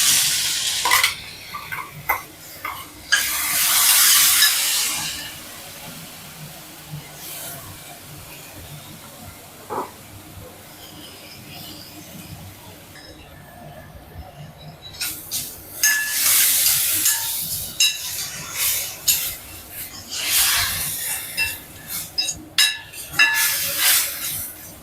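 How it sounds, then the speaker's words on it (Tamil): Ground tomato, ginger and garlic paste hitting a hot pan, with bursts of loud sizzling and hissing between quieter stretches, plus some stirring and clinks and brief talk. "இப்போ அரைச்சிட்டு அந்த தக்காளி இஞ்சி பூண்டுலாம் இதில் ஊற்றிடலாம்"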